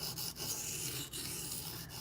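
Steady abrasive rubbing of a D2 steel Benchmade Griptilian folding knife blade drawn across sharpening stones, a continuous gritty scrape with a few brief breaks between strokes, close and moderately quiet with no talking.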